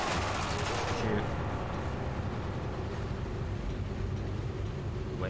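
Dense, continuous gunfire from a Quantum of Solace PC speedrun fills the scene, heavy bursts layered with loud battle noise throughout and a brief voice early on.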